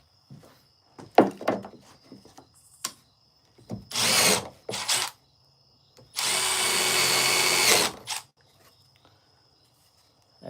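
A power drill bores into a piece of wood on a workbench in a workshop, with several short whirring bursts building to one long sustained run near the end, interspersed with clunks and handling knocks.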